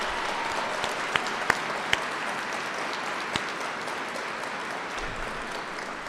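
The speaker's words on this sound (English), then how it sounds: "Ladies and gentlemen, one more big round of applause." Audience clapping steadily for a school fiddle group at a commemorative ceremony, a dense sustained round of applause filling the room with a few sharper individual claps standing out.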